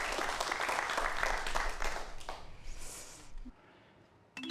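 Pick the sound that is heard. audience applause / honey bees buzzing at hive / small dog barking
audience applause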